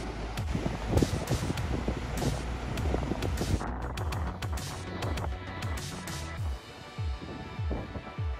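Strong wind buffets a small beach cove on Bigbury Bay, Devon, at dusk as the tide turns: a continuous, loud, gusty roar of rumbling noise with no speech.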